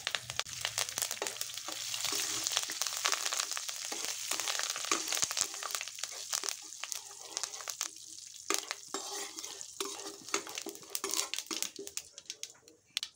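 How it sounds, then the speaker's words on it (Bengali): Curry leaves, mustard seeds and dried chillies sizzle and crackle in hot oil as a tempering for a vegetable poha pilaf, a steady close hiss with scattered sharp pops and occasional stirring scrapes throughout. "এখন এই তেলের মধ্যে আমি কারিপাতা, সর্ষে আর শুকনো লঙ্কাটা ফোড়ন দিয়ে নিচ্ছি।"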